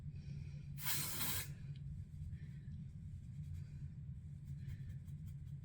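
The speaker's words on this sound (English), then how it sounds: "I'm gonna take a little bit of texture spray just up here where it's got a little flat." Texture spray hisses onto flattened hair at the crown in a single short, bright burst lasting about half a second, then gives way to a steady low room hum.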